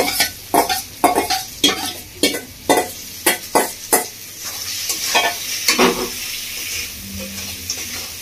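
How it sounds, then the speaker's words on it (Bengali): Spice masala for a rohu fish-head and moong dal dish is stir-fried in a pan, with a run of sharp, regular spatula scrapes and clacks over a sizzling hiss, close and loud, easing into quieter frying. "মশলা ভালো করে একটু কষিয়ে নেব"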